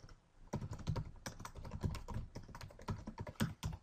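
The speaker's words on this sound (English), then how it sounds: "Sorry about my typing" Rapid typing on a computer keyboard while writing Java code: close, uneven bursts of clattering keystrokes that run steadily for several seconds with no speech.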